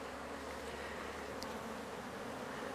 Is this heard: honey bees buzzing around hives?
yes